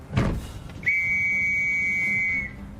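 A shrill steady whistle blasts once for about a second and a half, loud and close, signalling a battlefield charge in a war setting, preceded by a brief thump.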